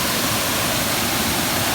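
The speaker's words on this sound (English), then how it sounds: "next to the waterfall in Karura Forest, Kenya, East Africa." Waterfall in Karura Forest, Kenya, East Africa: a dense, loud, continuous roar of falling water, close by and unbroken, with no voices.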